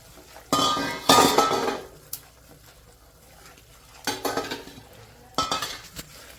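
A utensil stirs and scrapes a grated coconut mixture in a pan, in several close, clattering bursts of metallic scraping and clinking separated by quieter pauses, with no voices.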